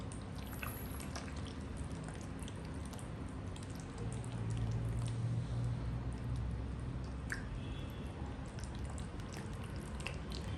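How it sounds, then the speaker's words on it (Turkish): Yogurt is stirred into a bulgur mixture for sursur, a soft continuous wet squishing and slopping that runs steadily and close, with no voices. "Yoğurdu ekliyorum. Güzel bir karıştırıyorum."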